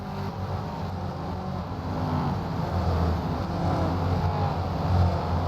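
Late model race cars roar past at Berlin after the finish, a continuous broad engine rumble that swells slightly as the rest of the field comes through.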